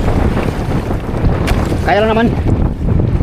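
Strong wind roars across a fishing boat out at sea in rough swells of seven to eight feet, a loud steady buffeting with rumbling microphone noise and the wash of water, while someone speaks briefly over it.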